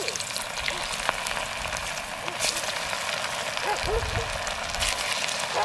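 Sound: chicken pakora frying in hot oil in a kadhai

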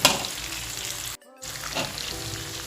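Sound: sautéing garlic and onion in a large wok

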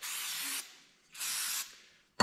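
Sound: brake cleaner spray wipe-down of a part

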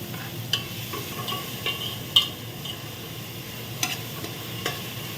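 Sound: onions sautéing with salt in a pressure cooker

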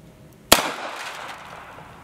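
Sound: gunshot bullet hitting stacked license plates

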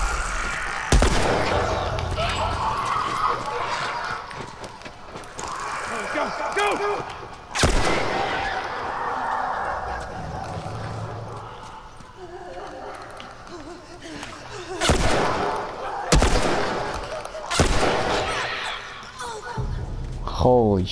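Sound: gunfire from the video game The Last of Us Remastered

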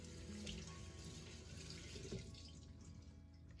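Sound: towel being washed under running cold water

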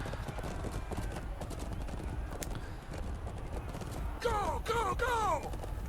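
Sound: horse hooves riding in Chivalry 2 video game

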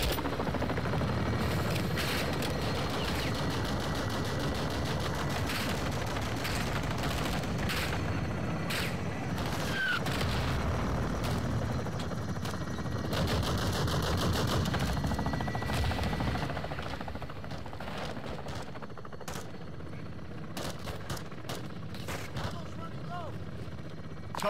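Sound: weapons firing on a marked target, from the video game Modern Warfare II

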